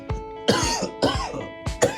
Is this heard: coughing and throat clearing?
yes